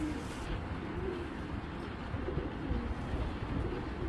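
An aged pigeon of an old breed coos low and steadily beneath a heavy wash of broadband noise, its murmur partly buried throughout.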